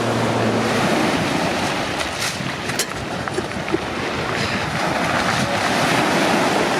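Steady roar of ocean surf washing onto a beach, broadband and continuous, with wind buffeting the microphone throughout.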